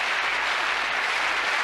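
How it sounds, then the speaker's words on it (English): A TV game show studio audience applauds for the yellow team, a steady wash of many hands clapping, full and even with no break, and no voices over it. "Give our yellow team a round of applause"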